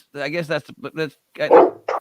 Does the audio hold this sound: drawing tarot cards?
no